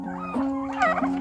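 Domestic turkeys kept on a small farm gobble nearby in a steady, wavering run of calls lasting about a second, alone without speech.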